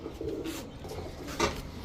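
A Tiger Danish female pigeon coos softly nearby, a low, brief murmuring call over faint background noise.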